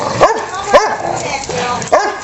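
A dog barks three times while playing in a backyard, short loud yips spaced about a second apart over faint background noise.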